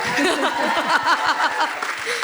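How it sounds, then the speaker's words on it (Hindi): A crowd at a music and trailer launch event applauds loudly, with quick, dense clapping and cheers mixed together, and bits of voices rise through the noise. "जोरदार तालियां तभी हम जाएंगे."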